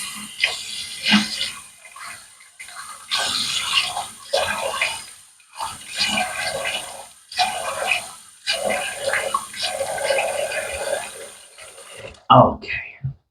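Tap water runs in uneven bursts while a razor and face are rinsed after a shave with Hoffmans "The Dragon" shave soap and a Henson AL13 razor, with splashing and brief pauses, ending in a louder clatter.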